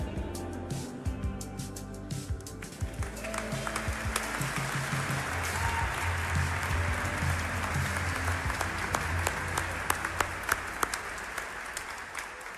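A crowd at a Wisconsin education event bursts into sustained applause for the state's Teachers of the Year, a dense wash of many hands clapping that swells and carries on steadily, with a few louder claps near the end.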